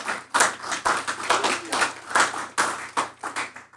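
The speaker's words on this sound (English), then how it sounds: "So I think that deserves a round of applause." A small group applauds at a tribal council budget hearing, close and fairly loud, with sharp individual claps in an uneven rhythm rather than a full crowd roar.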